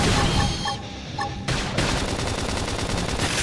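Bursts of gunfire from the video game Xenoblade Chronicles X, loud and dense rapid shots broken by a brief pause, then a continuous sustained volley to the end.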